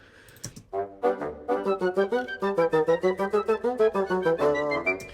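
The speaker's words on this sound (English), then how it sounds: "we've got this nice dance happening between the piccolo and the bassoon here" A piccolo and a bassoon play together in quick, bouncy staccato notes, a high bright line over a low reedy one in a lively, even rhythm.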